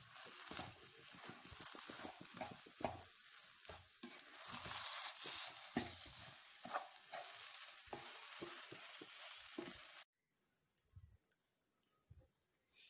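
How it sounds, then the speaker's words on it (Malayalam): Vegetable upma is stirred in a pan, giving a busy close sizzle with rapid scraping taps of the spoon for about ten seconds before dropping to near silence with a few faint knocks. "ഇനി നന്നായിട്ടൊന്ന് ഇളക്കി യോജിപ്പിക്കാം."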